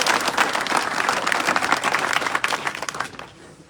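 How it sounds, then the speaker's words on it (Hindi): Loud, dense applause from a crowd at a nighttime outdoor BJP election rally in a village near Khetri, sustained clapping for about three seconds before tapering off. "जोरदार तालियों से"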